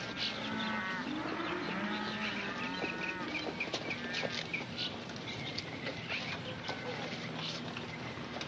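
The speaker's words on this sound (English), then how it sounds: "Them your cows?" Cattle moo in a deep, drawn-out call at the start, with bird clucks and scattered outdoor noise continuing around it at a moderate, fairly close level.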